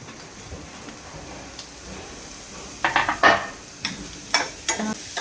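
Mushroom stems go into a pan of lightly roasting vegetables, with a quiet sizzle under a series of close clinks and scrapes of a spoon against the pan.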